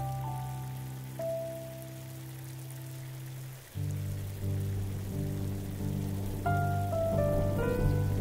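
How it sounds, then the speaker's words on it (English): Soft rain sprinkles onto dirt as a storybook sound effect, a gentle steady patter under calm background music with sustained notes. "They heard the soft sprinkle of rain hit the dirt."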